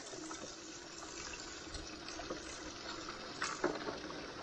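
Water from a battery-powered pump pours into a DIY gold highbanker, a steady rushing splash with a few sharper gushes near the end, fairly close and alone.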